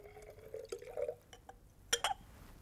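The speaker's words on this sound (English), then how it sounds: "Now, let's mix the base with the acid" A liquid pours and drips into a glass conical flask as sodium hydroxide is mixed into acid, giving short, close glassy trickles and a clink near the end, with nobody talking.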